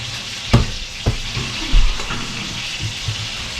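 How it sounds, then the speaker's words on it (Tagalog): Fish frying in a pan in a home kitchen: a steady low sizzle and crackle, close up, broken by a few sharp clunks and knocks from the pan or utensils, with no voices. "Ganitong isda yung piniprito ko mga palangga"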